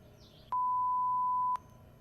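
A single steady censor beep lasting about a second stands in for a gunshot in crime footage, loud and flat-toned over a faint background hum.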